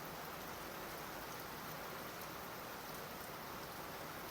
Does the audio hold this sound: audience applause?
no